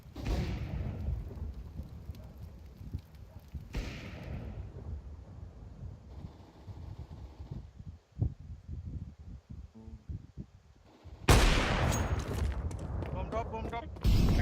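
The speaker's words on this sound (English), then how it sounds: "Deploying flashbang. Throwing a grenade." Grenade and flashbang blasts from the video game Counter-Strike 2 boom and crackle as layered explosions. A loud burst near the end stands out above the rumbling mix.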